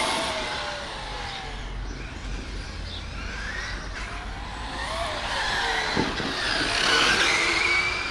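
A Traxxas X-Maxx RC car on a 4S battery runs outdoors, a whining electric motor rising and falling with tire scrubbing and gravelly rumble, swelling louder toward the end.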